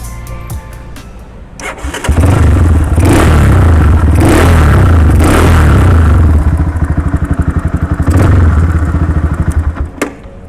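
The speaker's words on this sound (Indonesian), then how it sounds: "Nah itu cuy, suara dari Yamaha Scorpio konsep Cafe Racer" A Yamaha Scorpio cafe racer motorcycle engine cranks and fires up, then revs loudly and roughly for several seconds before settling, close and dominant with no talking.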